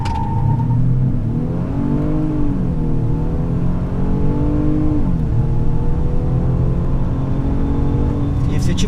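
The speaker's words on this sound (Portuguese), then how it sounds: "E eu vou fazer aquela largada estolada que a gente pisa no freio e acelera" A Mercedes-Benz E 250 Exclusive launches hard from a standstill in Sport Plus mode. Its engine revs climb loud and close, dip briefly at a shift, then keep rising under a steady road roar.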